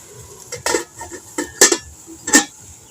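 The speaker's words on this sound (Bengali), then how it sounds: "এবার এটা আমি উনানে বসিয়ে দেব এবার চাপা দিয়ে দেব" Metal pot and lid handled on a stove while making an egg and milk pudding, a few sharp clanks and scrapes spaced irregularly, close and fairly loud.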